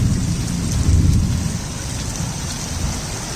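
Early-morning rain pours steadily with a low rumble of thunder rolling underneath, a continuous, fairly loud wash of falling drops with no voices.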